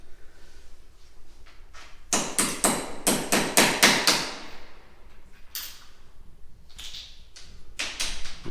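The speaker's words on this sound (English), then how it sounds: "And now they're chipping out just enough to get it to set down inside." Workers chip out concrete at a house build so a square piece can sit down inside, giving bursts of sharp, rapid hammer-like knocks in clusters, fairly close, separated by quieter gaps.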